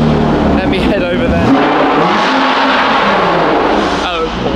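A supercar engine revs loudly and steadily, with a rising sweep midway, while people talk excitedly over the roar.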